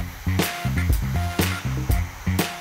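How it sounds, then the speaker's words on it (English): A hair dryer blows in short repeated bursts as it is used with a soft bristle brush on hair, the whooshing airflow close and loud, switching on and off in a choppy rhythm. "I'm going to use a soft bristle brush and a hairdryer"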